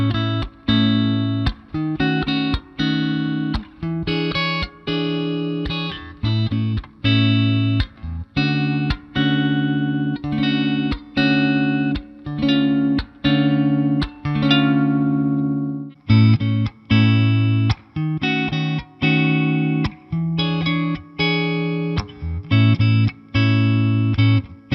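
Electric guitar played clean with only reverb through a Roland JC-120 Jazz Chorus amp on channel 2, ringing chords strummed in a steady rhythm, loud and close with a brief pause midway.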